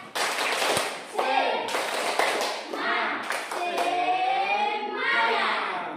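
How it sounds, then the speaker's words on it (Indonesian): A classroom group of children stands and does a rhythmic spirit clap led by one person, quick bursts of hand claps and slaps, with children's voices chanting and calling between the beats. "Tepuk semangat."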